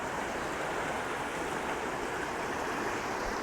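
Fast, high-water Colorado creek near Telluride rushing in a steady, dense roar with no breaks, close and loud throughout.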